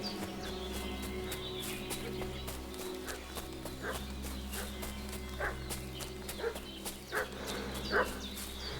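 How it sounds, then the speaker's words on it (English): Dog barking in a medieval village setting in Kingdom Come: Deliverance II, several sharp barks scattered over a steady low ambient hum, with horse hooves clip-clopping and footsteps nearby. "What's that dog making such a fuss about?"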